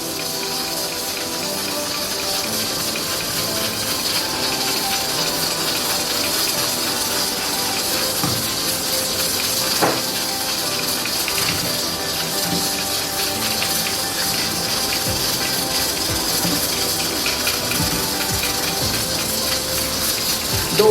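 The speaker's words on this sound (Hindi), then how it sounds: "थोड़ा सा इसमें पानी डालेंगे।" Water pours into haleem masala in a pan. A steady, close hissing gush runs unbroken for about twenty seconds.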